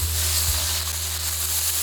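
Garlic and ginger sizzling with shrimp in a hot pan, a brief continuous hiss of frying with a low hum beneath and no voices.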